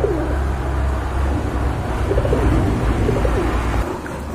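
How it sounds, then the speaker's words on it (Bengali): Pigeons kept for sale coo repeatedly in soft, rolling low calls over a constant murmur of background noise, close by. "খুবই চমৎকার এক জোড়া কবুতর"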